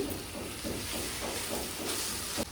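Okra frying uncovered in an open kadai, a steady, close sizzling hiss with faint crackles throughout.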